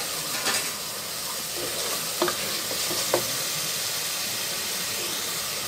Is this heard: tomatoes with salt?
yes